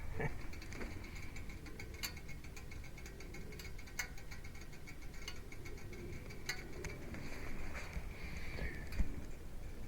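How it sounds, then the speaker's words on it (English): Sparse, irregular metallic ticks from a hot motorcycle engine cooling down, faint and spaced a couple of seconds apart, over a steady low background hiss. No one speaks. "That's the sound of a hot motor."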